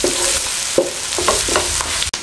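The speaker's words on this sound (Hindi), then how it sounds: "और इसको तकरीबन 40 से 50 सेकंड इसको फ्राई कर लो" Capsicum and other vegetables stir-frying in a hot pan for restaurant-style egg chow mein, a close steady sizzle broken by a few sharp spatula scrapes and knocks.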